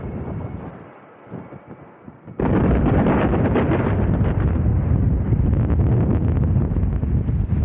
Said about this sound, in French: On va démarrer le tir, l'explosion va commencer et avancer petit à petit dans cette direction.